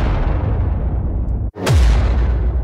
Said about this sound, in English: Yeah, some of the whoosh hits.